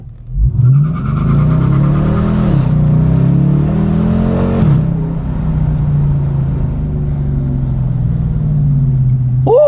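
A Dodge Challenger Hemi accelerates hard in sport mode, its loud engine climbing through two quick upshifts and then holding a steady droning pull from close range.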